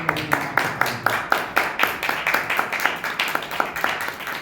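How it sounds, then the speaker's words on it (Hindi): A church congregation claps in unison during a Good Friday service, a steady, rhythmic beat of sharp, evenly spaced claps from many hands, with a voice faintly underneath. "ताली बजा के"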